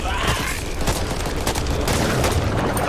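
A dense, noisy burst of booming and crackling fills the scene as a Boomer blows up in Back 4 Blood, loud and continuous with overlapping thuds and rattles throughout.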